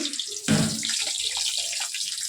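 Onion goes into hot oil for a North Karnataka–style brinjal curry, setting off an abrupt loud sizzle that settles into a steady, close crackling hiss.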